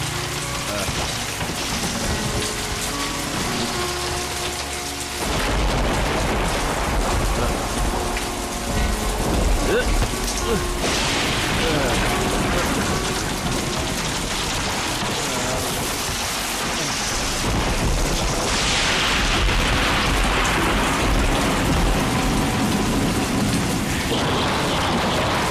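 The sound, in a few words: heavy rain with thunder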